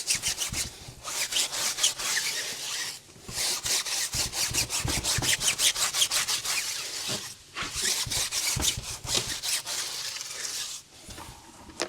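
A stiff tire brush scrubs a soapy wheel on a Tesla Model 3 Performance in fast, steady back-and-forth strokes, close and loud, with a few short pauses between bursts.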